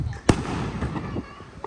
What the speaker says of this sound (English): He's having trouble lighting up the fireworks.